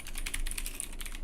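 Fingers type on a computer keyboard in a quick, uneven patter of light clicks, close and alone, with faint steady background hiss.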